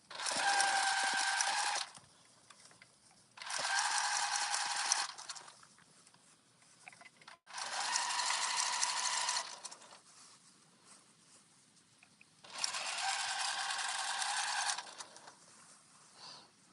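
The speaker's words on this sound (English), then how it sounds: "We're just top stitching all the way around" A sewing machine top stitches around the edge of a reversible jumper in four separate bursts of a few seconds each, with quiet handling noise in the gaps.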